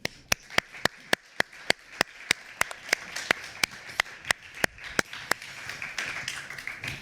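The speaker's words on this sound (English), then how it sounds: "please give a warm applause for our panel today" Audience applause for a panel at a Berlin Research 50 science event: sharp, evenly spaced claps ring out close by, filling into a denser wash of clapping toward the end.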